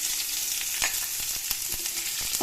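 Bay leaf and whole spices frying in hot oil, stirred in a pan: a continuous close sizzle with soft, regular scraping strokes of the spoon running through it.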